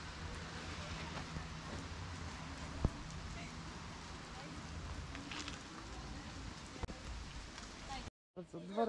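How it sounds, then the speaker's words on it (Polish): Steady rain patters continuously on a surface, with a faint background rumble and an occasional sharp knock. "Słońce wychodzi, deszcz pada."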